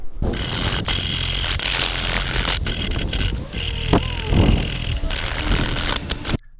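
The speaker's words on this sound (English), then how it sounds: "the same metal saw is going to be going through this heavy screw." A multitool fitted with a metal saw blade cuts through a heavy screw, a loud, rapid grinding buzz with harsh rasping that keeps stopping and restarting in short bursts.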